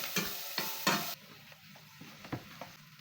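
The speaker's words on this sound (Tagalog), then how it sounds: "Stir fry lang uli ito." Cubed ham, sliced mushroom and potato stir-fried in a pan for a mushroom and potato soup, with a few sharp scraping stirs followed by a softer, quieter sizzle and occasional light utensil knocks, close.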